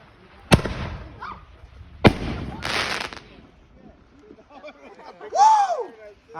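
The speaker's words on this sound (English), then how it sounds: "No, but it's a firework." Fireworks go off outdoors in two sharp, loud bangs followed by crackling and a rising whistle near the end, with people talking excitedly in between.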